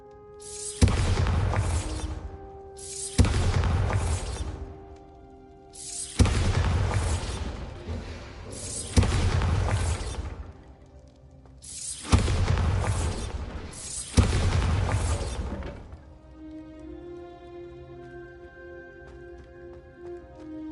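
Six loud, booming blasts from the Bombarda spell in Hogwarts Legacy go off at fairly even intervals, each one a broadband burst with a rumbling tail. A quieter game-music bed continues once they stop.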